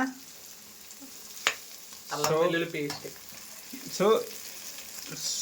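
Green chilies and coriander fry in oil for a chicken curry, a close sizzle broken by sharp clinks and scrapes of stirring, with brief bursts of louder spitting.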